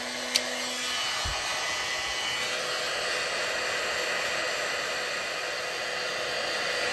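Heat embossing tool blowing hot air over a stamped card, a steady close broadband whoosh that runs without a break throughout, with a faint click near the start.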